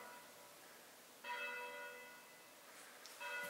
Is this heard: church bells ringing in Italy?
yes